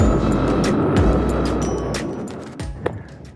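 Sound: Yamaha XSR700 motorcycle riding

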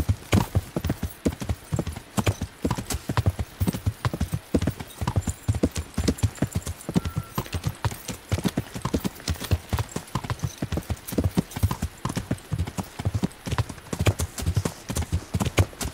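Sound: horse galloping hooves in video game

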